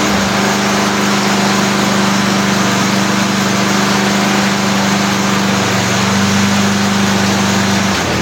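A Toro Recycler lawn mower with a Briggs engine runs close by at a steady, loud hum, holding one even pitch throughout with no voices.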